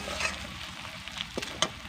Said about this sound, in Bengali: আদা রসুন কিন্তু সব ভাজা হয়ে যাচ্ছে